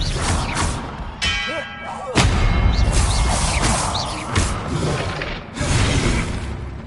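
An Incendio fire spell cast in Hogwarts Legacy, several whooshing bursts with booming thuds and crackles as fire erupts, repeated over a constant wash of combat noise.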